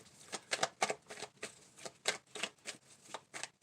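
Tarot cards being shuffled in a quiet room, a run of soft papery riffles and flicks at an uneven rhythm, close and fairly faint, with no one talking.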